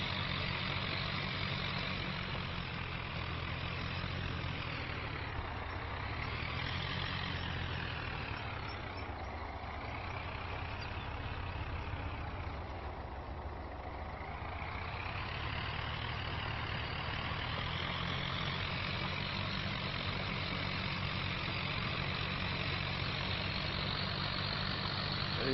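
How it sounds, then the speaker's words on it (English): An old tractor idles steadily in Farming Simulator 25, a continuous low engine drone with slow swells in tone, no talk over it. "Even though this tractor's getting on in years, it's still got a good day's work left in it."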